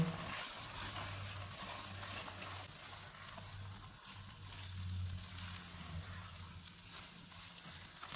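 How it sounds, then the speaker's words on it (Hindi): Chicken fries in a pan with a steady, close hiss of sizzling oil, punctuated by faint stirring and scraping as it is mixed, with no talk. "2 मिनट के बाद इसमें तैयार किया हुआ चिकन डालेंगे। इनको मिक्स करेंगे।"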